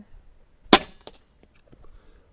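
A DAR Gen 3 .25 regulated PCP airgun fires one sharp, loud crack, followed by a fainter click or impact and then quiet, sparse background noise.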